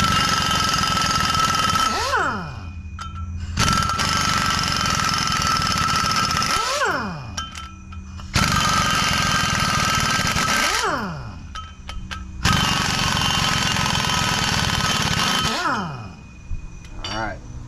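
An impact wrench working the brake bolts on a Ford Transit's front brakes rattles out in roughly four loud bursts a few seconds apart, with brief clinks and quieter gaps between them.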